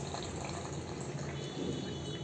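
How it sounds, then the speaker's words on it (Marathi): Water pours steadily into a kokum and sugar mixture in a container, a continuous close splashing and trickling with no voices. "असं पाणी त्यात ॲड केलं आहे"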